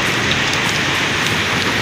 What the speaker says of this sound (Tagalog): pagpapatila sa ulan.